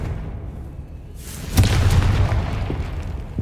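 A fiery Confringo spell blast in a Hogwarts wizarding video game erupts as a single loud boom after a quiet stretch, then rumbles on with crackling debris for a couple of seconds.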